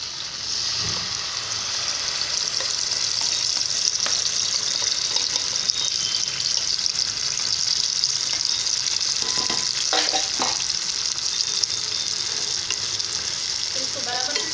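Ground dates fry in melted ghee for khajoor halwa, an even, close sizzle that continues throughout with occasional soft spoon scrapes and clicks and no speech.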